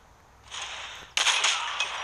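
An Arctic 50 sniper rifle fires a no-scope shot in Call of Duty Mobile during a 1v1 match on a saloon map: one sharp, loud crack over a bright whooshing bed that rings on briefly.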